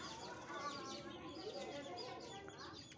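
A hen clucks among her chicks alongside a kitten, soft repeated clucks and chirpy peeps layered over a busy, faintly noisy yard background.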